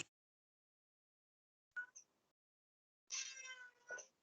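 A house cat named Sora meows twice, a short faint call followed by a longer, louder drawn-out meow, alone in a quiet room.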